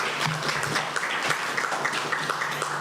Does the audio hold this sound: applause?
yes